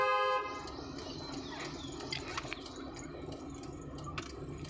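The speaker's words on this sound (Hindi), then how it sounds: "हॉर्न दीजिए" A car horn gives one short honk at the start during a driving lesson, with steady road and engine noise continuing underneath.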